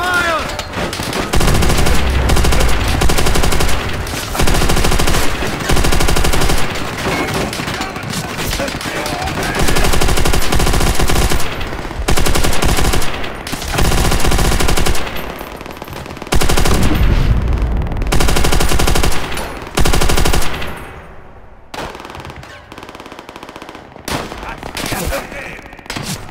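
Sustained machine gun fire in the video game Call of Duty: World at War, Vendetta mission: loud, dense automatic bursts and overlapping gunshots for most of the clip, thinning briefly near the end.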